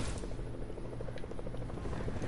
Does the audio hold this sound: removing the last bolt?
no